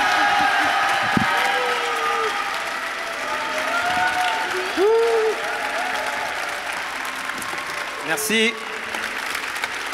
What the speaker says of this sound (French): Merci de faire un tonnerre d'applaudissements